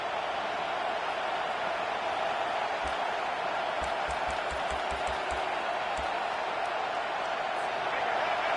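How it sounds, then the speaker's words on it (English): Football stadium crowd roaring in a dense, steady wash of noise, with a few faint thumps underneath. "The roar of the crowd trying to fuel this defense to keep them pinned in their own end."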